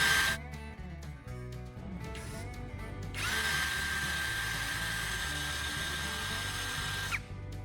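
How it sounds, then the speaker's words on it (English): A power drill boring a hole in a toilet paper roll core used as a hammer head mold, with short stop-start bursts at first and then a long, steady whine that cuts off abruptly, recorded close and fairly quietly. "After drilling a snug hole in the mold"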